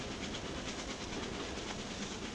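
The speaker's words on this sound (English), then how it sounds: "As the train rattled and vibrated in rhythm to the joints and the tracks" A train rattles along the track in a steady, even wash of rumble and hiss, with a faint rhythmic clatter over the rail joints and no voices.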